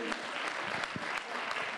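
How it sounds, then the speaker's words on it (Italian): A brief burst of audience applause for a young performer at a children's festival, dense clapping from many hands that carries evenly through the short moment. "Un applauso per lei."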